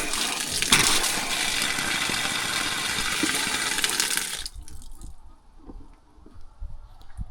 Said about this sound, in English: open the outside tap, and hopefully we should have water